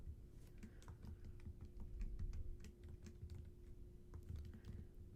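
Keys tap slowly and evenly on a computer keyboard, light distinct clicks over a low steady hum, close and quiet with no talking.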